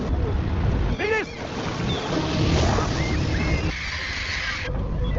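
Tourist boats on open water, with a steady wash of engine and wind noise, splashing and sea surf, and brief voices and calls rising over it.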